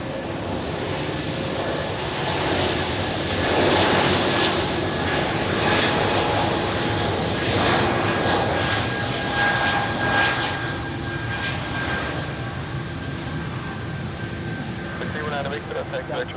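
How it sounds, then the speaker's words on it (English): Embraer jet engines roar steadily at Zurich Airport during the Sunday rush hour, a loud continuous rumble that holds for the whole stretch. "That's a lot of Embraer jets here on screen."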